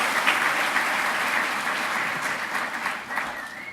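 An audience at a lecture hall talk by Tariq Ramadan at Palexpo claps steadily throughout, a dense wash of applause with no talking.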